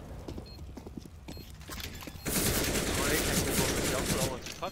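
Gunfire in Counter-Strike on the Mirage map erupts into a dense, loud burst of rapid shots and clattering impacts midway. A quieter stretch of scattered sounds comes before it, and a voice is faintly heard.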